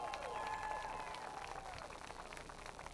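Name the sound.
crowd applause at speedway victory lane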